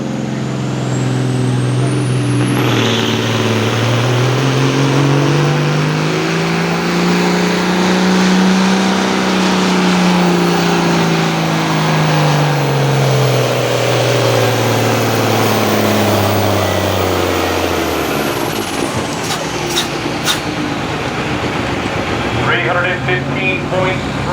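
A semi truck's diesel engine revving up and down at Millers Tavern, its deep droning pitch climbing, holding and falling back, with a hiss of air near the end and people talking over it.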